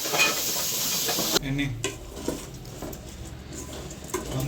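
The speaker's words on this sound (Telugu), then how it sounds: "సో ఇట్లా మంచిగా కలుపుకోవాలి రైస్ వేసాక" Soaked rice being stirred into a pot for paneer pulao, a loud sizzle that drops abruptly to quieter scraping and clinking of a spoon against the pot, with a faint hiss of steam.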